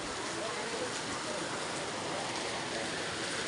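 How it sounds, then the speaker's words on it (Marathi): Heavy rain pours down in a steady, dense hiss that fills the scene evenly from start to finish, loud and close. "बघितला का कसला पाऊस पडते."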